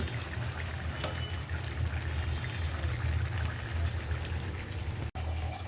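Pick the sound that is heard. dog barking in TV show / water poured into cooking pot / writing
water poured into cooking pot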